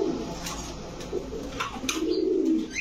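Grizzle Lahori pigeons coo softly and repeatedly at close range, low rolling calls with a few brief higher chirps and rustles mixed in.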